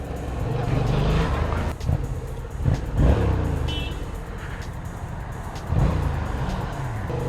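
A Yamaha MT-07 crossplane two-cylinder motorcycle engine rumbles and revs in short bursts, deep and throaty, with a few sharp throttle blips rising above a steady idle.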